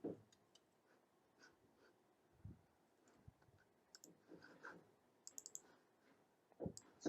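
Code being typed on a computer keyboard produces sparse, soft key clicks at an irregular pace, with a few quick clusters of taps. The room is otherwise quiet and no one speaks.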